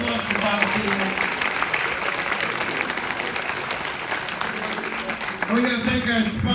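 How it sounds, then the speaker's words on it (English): Audience applause at a Beyond Fest screening event in Los Angeles, a dense, steady wash of clapping that holds for the whole stretch and swells slightly near the end, with a voice talking over it. "A huge round of applause to Valentina."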